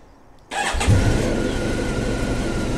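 A Honda VFR1200 motorcycle's engine cranks briefly and fires, then settles into a loud, steady idle close by.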